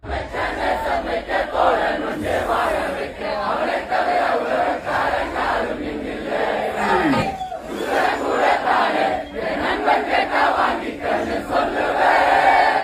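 A dense crowd roars, cheers and sings together in a large, echoing cinema, steady and loud throughout with swells of shouting.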